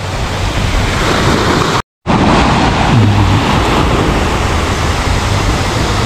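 Steady rushing surf from an artificial wave pool at a water park and wind noise fill the clip with no voices, broken by a brief total dropout near the two-second mark.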